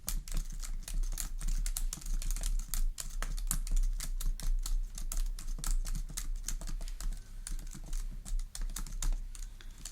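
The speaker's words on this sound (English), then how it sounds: "I'm just writing this down." Notes typed on a computer keyboard, with rapid, close, crisp key clicks in a continuous irregular patter over a low steady hum.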